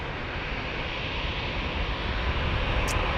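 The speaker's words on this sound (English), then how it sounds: "Oh, it's a SkyWest flight." A SkyWest passenger jet arriving at San Diego International Airport, its engine roar a steady broadband rush heard from the ground at moderate distance, constant throughout without speech.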